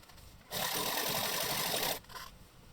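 Sewing machine stitching along the folded edge of a boxer shorts leg seam, a steady, close, even whir running for about one and a half seconds between quieter pauses, with no talk.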